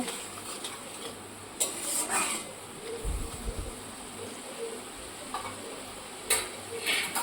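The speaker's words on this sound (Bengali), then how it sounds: "তো চলো পুরো মশলাটাকে ভালো করে কষিয়ে নেব মশলার গা থেকে তেল না বেরোনো পর্যন্ত মশলাটা আমি এভাবে রান্না করতে থাকব" Masala spice paste for a Bengali fish kalia is stirred and sautéed in a pan, with scattered soft scrapes and light sizzling over a low steady hum.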